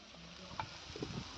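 Spices including Kashmiri chilli powder, coriander powder and turmeric are stirred in a pan, giving a faint, soft sizzle with a few brief scrapes of the spoon.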